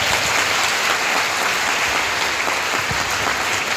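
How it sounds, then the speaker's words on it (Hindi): A crowd at a family talk gathering breaks into strong applause for a woman handed the microphone, thick continuous clapping with a few louder single claps, sustained throughout. "आप सबकी जोरदार तालियों के साथ।"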